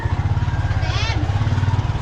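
Motorcycle engine running close by with a steady pulsing low throb, while a voice speaks briefly over it.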